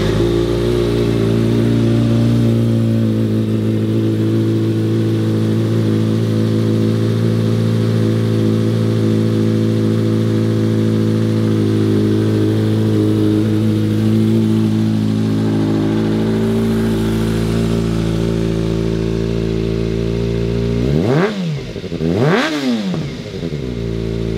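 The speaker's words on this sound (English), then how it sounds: "let's go ahead and fire it up and listen how she sounds." A 2022 Kawasaki Ninja ZX-6R engine idling steadily and loud for a long stretch, then revved sharply twice near the end, the pitch rising and falling with each throttle blip.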